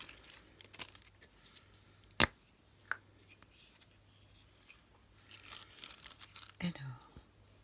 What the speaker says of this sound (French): je vais venir mettre des morceaux de papier de soie